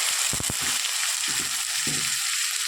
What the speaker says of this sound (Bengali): তেলটা ভীষণই গরম তো আমি এবার দিয়ে দিচ্ছি কেটে রাখা টমেটোটা